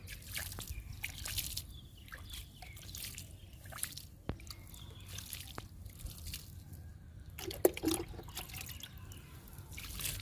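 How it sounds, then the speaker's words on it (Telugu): Water is poured onto bitter gourd seeds sown in a soil-filled tub on a terrace, giving soft, irregular drips and trickles, quiet and close, with no talking. "కాకర విత్తనాలకి వాటర్ ఇస్తున్నా."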